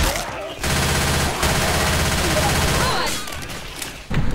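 Teammates firing guns in the video game Left 4 Dead 2, a steady rattle of rapid shots lasting a few seconds, with voices talking around it.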